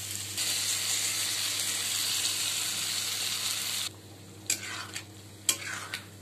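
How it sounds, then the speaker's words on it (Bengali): Mixed vegetables fry in a pan with turmeric, cumin and chili powder paste, giving a dense steady sizzle that cuts off. Sharp scraping bursts of stirring follow over a quieter simmer. "এবার আমি মশলাটা দিয়ে কষাবো"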